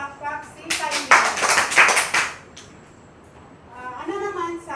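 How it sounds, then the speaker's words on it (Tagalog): Three quick rounds of clapping from a classroom of children for a student, sharp and close, bursting in after a teacher's voice and fading into quiet before the teacher speaks again. "Bigyan ng 3 palakpak si Kylie."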